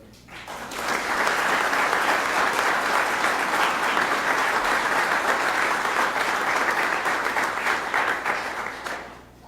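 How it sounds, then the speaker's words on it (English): Sustained applause from an audience at a press conference announcing government appointments in Arkansas, steady and full for about eight seconds before fading out, with no speech over it. "Oh, I hear Charlotte giving me some applause back there."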